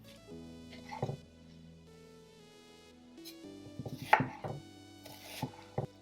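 Knife chopping a quarter of a medium onion on a cutting board for beef chow hor fun, with sharp, irregular knocks in a few quick bursts, close and moderately loud over a steady background hum.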